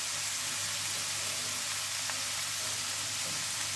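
An omelette fries in a pan for an omelette palak curry, a steady close sizzle running evenly throughout with no pauses and no voices.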